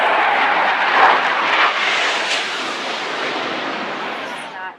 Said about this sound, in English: We have 2 Russian SU-24s currently conducting multiple passovers, wing clean, continuing to track and monitor.